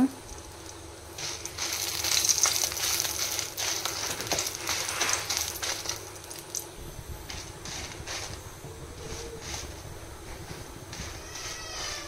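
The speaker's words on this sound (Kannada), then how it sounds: "ತುಂಬ ಲೋ ಫ್ಲೇಮಲ್ಲಿಟ್ಟು ನಾನು ಲೈಟಲ್ಲಿ ಫ್ರೈ ಮಾಡ್ತಾ ಇದ್ದೇನೆ." About eleven dry red chillies fry lightly in a pan over a very low flame, a soft, steady sizzle and crackle with a few brief scraping touches, close and quiet.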